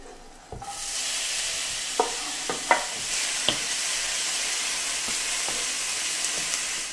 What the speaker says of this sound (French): On va faire revenir l'oignon légèrement sans coloration